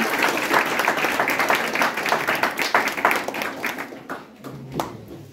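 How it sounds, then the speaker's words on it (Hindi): An indoor audience at a student felicitation ceremony applauds loudly to welcome a guest, dense clapping that thins out into scattered claps near the end. "जोरदार तालियों से स्वागत किया गया"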